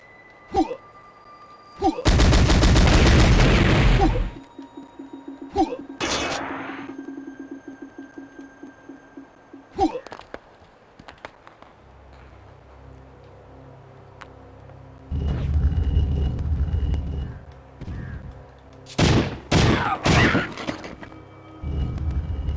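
Gunfire in Powerslave / Exhumed on Sega Saturn hardware, a long sustained burst of rapid shots, then scattered single bangs and a later set of sharp repeated blasts amid game effects.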